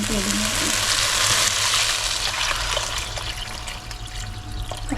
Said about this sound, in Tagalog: Lagyan ko na siya ng tubig.